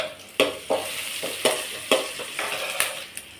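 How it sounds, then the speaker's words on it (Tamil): Onions and curry leaves sautéing in hot oil, a steady close sizzle broken by several sharp spattering crackles and stirring clatters at uneven intervals, with no voices. "வெங்காயத்தை வதக்கிக்கிறேன்"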